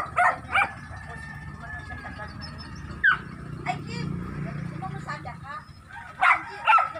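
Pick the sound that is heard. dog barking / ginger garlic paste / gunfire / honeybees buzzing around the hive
dog barking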